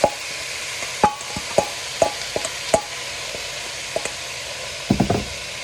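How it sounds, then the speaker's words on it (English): Sliced onions being stirred into hot caramel for French onion soup: a steady bright sizzle broken by repeated sharp utensil knocks and scrapes against the pot, close and fairly loud. "we're gonna add the onions until they're evenly coated in this caramel"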